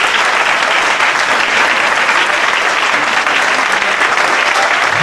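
A church congregation at a wedding service breaks into loud, sustained applause in honour of God, a dense even roar of clapping with a faint crowd murmur beneath.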